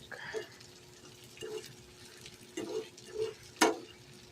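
Eggs with tomato are scrambled in a small pan: a quiet sizzle runs throughout while a utensil scrapes and taps against the pan a few times at irregular intervals, with one sharper clack near the end.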